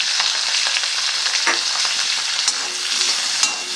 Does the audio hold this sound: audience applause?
no